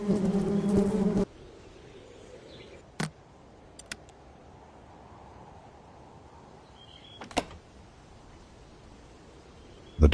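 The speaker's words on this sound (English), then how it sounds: "Oh God, not the bees!" A dense swarm of bees in the Nobodies: Silent Blood video game buzzes loudly for about a second, then cuts off, leaving a quiet hum broken by a few sharp clicks and another burst of sound at the very end.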